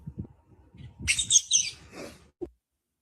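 Birds chirp in a short burst of high, bright tweets, fairly close and clear, after some low indistinct sounds, ending with a brief thump.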